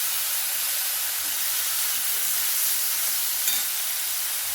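Chopped onion and a large tomato frying together in a pan for ridge gourd thokku, giving a steady, even sizzle and hiss throughout, close and fairly loud with no talking.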